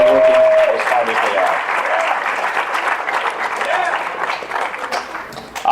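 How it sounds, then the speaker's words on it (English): An audience at a high school fall sports awards ceremony applauds in a steady wash of clapping, close and loud, continuing for several seconds. "I want to give a round of applause for everybody out here"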